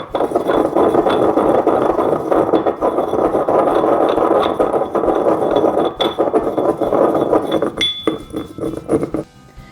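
An electric grinder whirs loudly and continuously as spices and sugar rattle and clatter inside it, powdering them, with a few brief pauses near the end.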